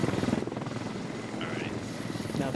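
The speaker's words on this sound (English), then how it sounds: "you're flying a helicopter" A helicopter flies in a multiplayer war video game, its steady, loud rotor chop throbbing throughout with a rhythmic pulse and a faint whine above it.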